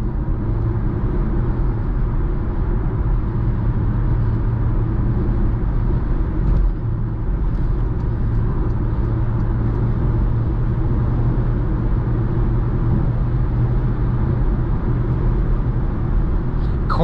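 A 2017 Porsche Macan Turbo drives at speed on the road, its engine a steady, heard-from-inside rumble mixed with road and tyre noise, holding constant without clear revving peaks.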